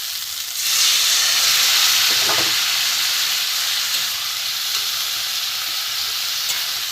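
Soybean curry masala fries in a pan with a steady, loud, close hiss of sizzling oil that holds evenly throughout, with only faint stirring.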